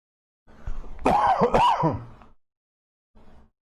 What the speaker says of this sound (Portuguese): Estou tossindo bastante